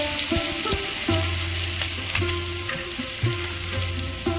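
Chopped garlic sizzles loudly in hot oil in a wok while making chicken momos, with a constant crackle broken by several scraping stirs of a utensil against the metal.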